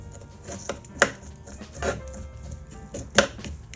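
BBQ pork being cut off the bone with a steak knife: a few sharp, close knocks and scraping cuts spaced apart, with quieter handling noise between them.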